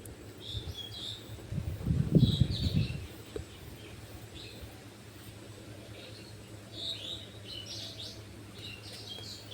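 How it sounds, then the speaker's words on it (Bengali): Small birds chirp faintly and intermittently outdoors near a velvet apple tree, with short high tweets scattered over a soft ambient hum and a brief low rustle early on. "পাখির শব্দ"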